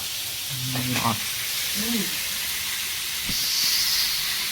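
Large chunks of meat hiss and sizzle steadily in a hot pan at home, a continuous broadband frying noise with a brief clink partway through and a faint voice in the background.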